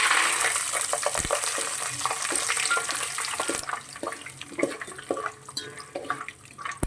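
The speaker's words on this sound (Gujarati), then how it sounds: "તો હવે આપણે સિંગદાણા તળી લેશું પહેલાં" Peanuts fry in hot oil in a pan, a loud crackling sizzle at first that gives way to scattered stirring knocks and rattles, heard up close with no talk.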